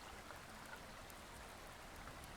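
Plants being watered in the survival game Subsistence: a soft, steady stream of pouring water, faint and continuous, like rain or a trickle on soil.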